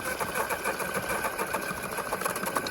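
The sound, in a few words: steam engine water pump grinding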